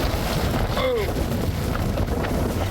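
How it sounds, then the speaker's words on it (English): Powerful Santa Ana wind gusts batter a microphone outdoors in San Bernardino at night, a steady loud roar of rushing air and buffeting, with a brief swooping tone in the middle. "Powerful wind gusts rattling signs and tipping over shopping carts in San Bernardino tonight."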